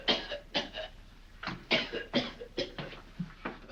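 A man coughs repeatedly in a rough, hacking fit with a bone stuck in his throat, about nine harsh bursts close to the listener in an uneven rhythm.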